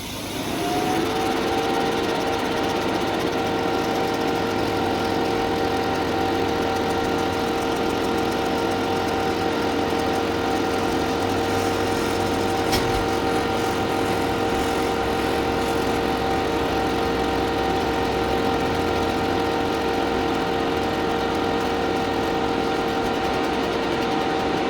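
An xTool F1 Ultra laser engraver working on a large 12-inch cork trivet made from a plant cork base, giving a loud, unbroken machine drone with a steady fan hum that holds for the whole stretch.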